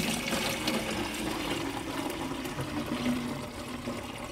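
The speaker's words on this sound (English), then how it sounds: "And then I'll just fill that up with water." Water gushing from a bucket into a watering can, a steady splashing pour that runs for several seconds at close range and tapers slightly toward the end.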